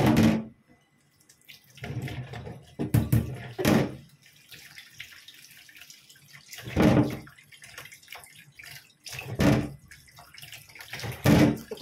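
Running water splashes over a peeled pumpkin being washed under a kitchen tap, coming in irregular loud bursts separated by quieter moments of trickling, close up, with no voices.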